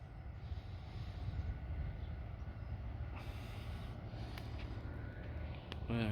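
A Class 66 diesel locomotive hauling a container train climbs a grade in Suffolk, heard as a faint, distant, continuous engine rumble with a brief metallic squeal near the end.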